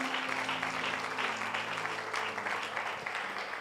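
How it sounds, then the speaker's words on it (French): Church congregation applauding and cheering together during a worship service, a steady dense wash of clapping that holds through the whole moment, with a sustained musical tone underneath. "Quelqu'un dit Amen et acclame la parole du Seigneur."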